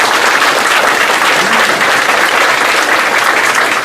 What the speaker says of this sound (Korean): 뜨거운 박수로 좀